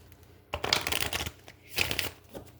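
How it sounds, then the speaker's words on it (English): Tarot cards riffle-shuffled by hand, two quick bursts of dry papery flutter close by, with a short pause between them and a faint soft tap at the end. "Okay, we're going to do 3 shuffles here."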